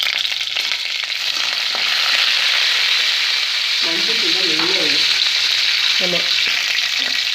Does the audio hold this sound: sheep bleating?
no